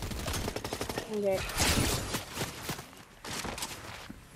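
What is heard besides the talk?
gunfire in a video game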